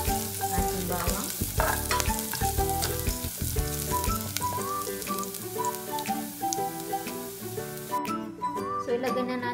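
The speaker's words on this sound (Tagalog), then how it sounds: "Hintayin natin mag-golden brown ang ating bawang." Garlic frying in oil until golden for lugaw, a steady close sizzle that runs the whole time beneath loud melodic background music.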